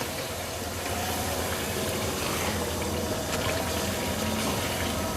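Water is poured into chicken masala frying in a pan, giving a steady, loud hiss and sizzle of liquid hitting hot oil that runs unbroken throughout, with no talking.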